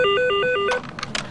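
A telephone rings in a TV newsroom: three quick electronic ring bursts, near and clear, followed by faint background noise.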